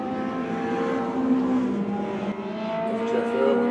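Historic sidecar motorcycles racing at Winton: a continuous droning engine note holding steady and shifting pitch slightly as machines run at speed, loud and sustained.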